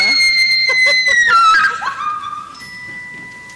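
A woman lets out a loud, shrill scream in a stage performance of Hello Dolly, rising sharply and sliding down before trailing off into quieter room sound.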